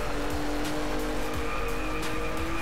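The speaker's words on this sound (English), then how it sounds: "And it has such a meaty exhaust note from that GT-R." The exhaust of a Nissan GT-R NISMO race car with about 500 horsepower roars steadily in the Driveclub racing game, with brief tire squeals over a loud, continuous engine drone.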